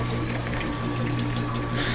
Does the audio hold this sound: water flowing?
yes